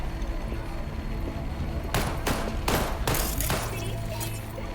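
Gunfire in the video game Cyberpunk 2077: Phantom Liberty, a quick volley of four or five loud, sharp shots in close succession over a murky background of game ambience.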